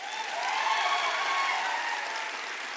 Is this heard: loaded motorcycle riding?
no